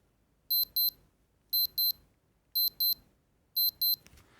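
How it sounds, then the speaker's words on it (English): A high electronic beeping from a Casio digital watch alarm repeats in four evenly spaced double-beep bursts, sharp and close, with faint rustling between them. "it's your basic Casio alarm sound"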